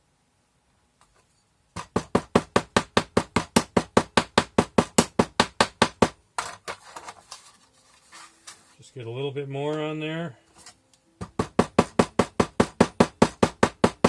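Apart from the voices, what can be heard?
hammering sand to pack mold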